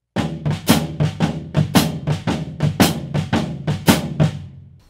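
A Stick Control exercise on drum kit with four-way coordination, the hi-hat closing on beats 2 and 4 beneath a steady, dense stream of tom and bass drum strokes, played close and loud.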